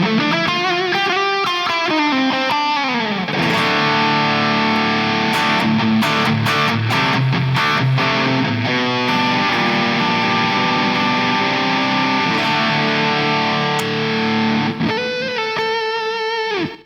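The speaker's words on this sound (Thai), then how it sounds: "สามารถที่จะเล่นเสียงแตกได้แล้ว" Heavily distorted electric guitar, an Enya Sonic smart guitar through its built-in speaker, plays continuously and loudly, with sustained crunchy chords and short riffs, no voices.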